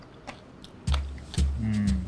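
Crunchy bites into a fruit eaten with its peel on, two or three close, loud crisp bites around the one-second mark followed by steady chewing, with soft murmured sounds of enjoyment.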